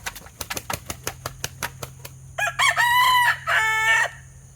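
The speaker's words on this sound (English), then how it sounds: "Something about that crow I like a lot. The way he crows." A molting rooster crows loudly up close, a long stretched call in two parts, preceded by a rapid series of sharp pecking or tapping clicks.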